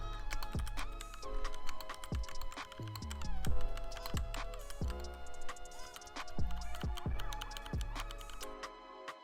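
Rapid typing on a keyboard with clicky Cherry MX Blue switches fitted with O-ring dampeners: dense, steady clacking keystrokes, fairly close, running over a sustained tonal background hum throughout.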